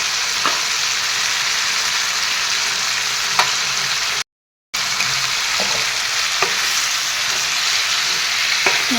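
Fish curry with cauliflower and tomato fries in a pan, a steady loud sizzle with occasional scraping stirs, broken by a brief gap of silence midway.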